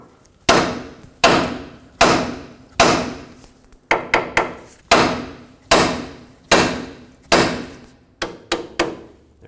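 Sharp hammer strikes on a steel steering knuckle of a 1997-2003 Ford F-150, knocking the tie rod end loose; about a dozen loud, ringing metallic blows in a steady rhythm, some in quick pairs, close and alone.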